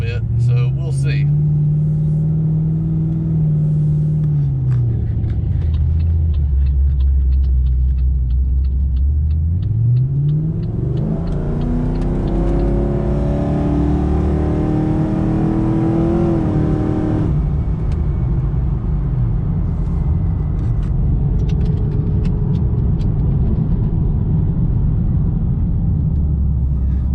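A Pontiac G8 with cheap replacement eBay mufflers driving, its engine note rising and falling through gear changes, then swelling to a louder, raspier acceleration before easing off, close and loud throughout.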